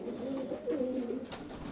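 Low, rolling coos from a domestic pigeon hen kept by a breeder, a soft warbling call repeated steadily and close by with no talk over it.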